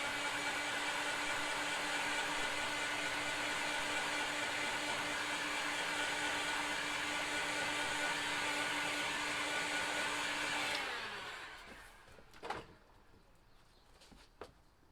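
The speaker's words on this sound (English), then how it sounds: "So that'll do for the drying, the heat gun." A heat gun blows on freshly spray-painted surfaces, a loud, steady, whooshing blower roar that holds for about eleven seconds, then winds down and cuts off, leaving a few faint clunks and near quiet.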